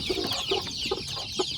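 Young free-range village chickens cluck softly in a few short, repeated calls over a steady hiss of background noise, close by and moderately quiet.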